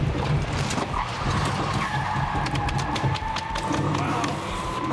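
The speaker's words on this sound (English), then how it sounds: "deploy the Grappler and snare a speeding truck" Tires squeal and skid loudly as a speeding truck is snared by a police Grappler net device, a sustained screech with engine roar over about five seconds.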